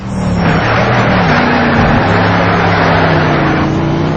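A loud racing car engine in the video game Need for Speed Shift roars steadily throughout, with a high-pitched whining tone and tire squeal rising over the constant engine drone.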